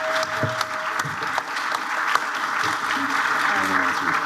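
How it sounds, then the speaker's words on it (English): Applause for the panelists at a San Diego Comic Con 2024 panel: dense, continuous clapping from a large audience in a hall, holding steady throughout with scattered louder claps standing out. "Please round of applause for our panelists."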